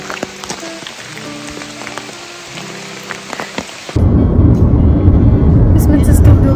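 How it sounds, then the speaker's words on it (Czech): Rain falls during a family holiday in Austria, a loud dense wash of steady downpour arriving abruptly midway, after a quieter stretch with voices talking. "To však prší, je to tam vidět, tak prší?"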